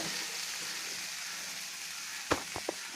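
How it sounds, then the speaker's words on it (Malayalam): Prawns frying in a pan over a low flame, a soft steady sizzle with a few sharp pops and crackles near the end. "ഇനി അടച്ചു വെച്ച് ലോ ഫ്ലെയിമിൽ ഒരു 6-7 മിനിറ്റ് വേവിക്കുക"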